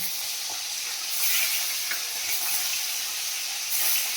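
Local koi fish and crab sizzle and crackle steadily in hot oil for a home-style Bengali crab curry, a dense bright frying hiss with a few louder surges and faint stirring clinks, no talking.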